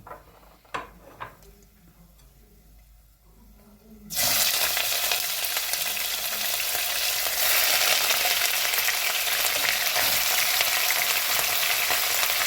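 After a few faint clicks, a loud, steady sizzle erupts as diced meat hits melted fat in a pot and keeps searing without pause.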